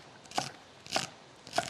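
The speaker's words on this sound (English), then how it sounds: "I'm cutting up some celery, about 3 stalks of celery" Three crisp, evenly spaced knife cuts through celery stalks, each a short crunchy snap close by, with quiet pauses between them.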